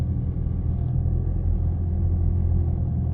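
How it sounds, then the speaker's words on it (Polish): A Range Rover Evoque D200 with a 2.0 four-cylinder diesel engine gives off a continuous low, rumbling clatter, steady and close, with no voices over it. "Klekot to bardzo dobre określenie, bo kultura tego diesla jest przeciętna, nawet jak na 4-cylindrowe jednostki."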